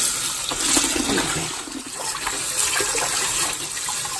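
A tap runs in steady continuous water flow, hissing and splashing close by without a break, while leftover holiday greens are rinsed in a kitchen.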